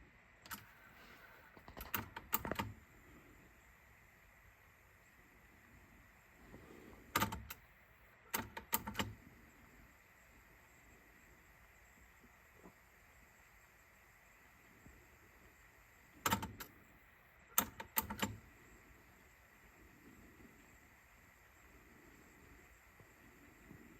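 Cassette tapes are swapped in a Pioneer T-555WR tape deck: small clusters of mechanical clicks and clacks from the eject and loading mechanism come in quick groups over a quiet, faintly humming background.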